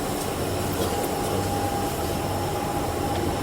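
A London Underground Central Line train bound for Epping, running steadily with a loud, continuous rumble and a faint high whine, heard from inside the carriage with no voices.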